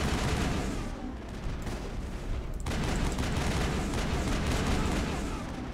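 Rapid gunfire fills a Mass Effect 1 firefight against Exogeni forces, a dense, continuous roar of weapon shots and impacts from start to finish, with a brief dip in intensity before the barrage resumes at full loudness.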